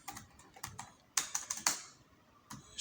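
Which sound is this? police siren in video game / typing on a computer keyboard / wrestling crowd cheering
typing on a computer keyboard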